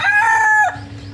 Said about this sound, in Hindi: लो मुर्गे को भी गुस्सा आ गया कि यार ये क्यों आए हमारे केज में।